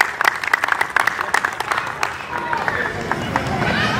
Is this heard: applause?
yes